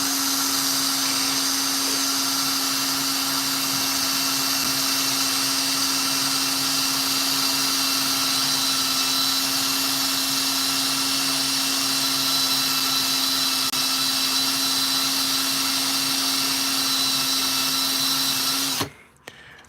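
Fine 3000 grit sandpaper works steadily under a power sander with a constant loud whirring drone and steady tone, cutting off abruptly near the end.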